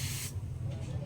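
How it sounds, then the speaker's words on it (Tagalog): Casta foam cleaner sprays onto a Kymco Super 8 scooter frame in one short, sharp hissing burst that stops abruptly, leaving a low background hum. "I-sprayan ko ng Casta foam cleaner para kahit pa paano matanggal yung mga alikabok nya."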